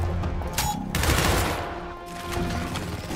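Bursts of gunfire from the video game Gears Tactics crackle in two or three dense volleys with booming low thuds, fairly loud and continuous with no talk.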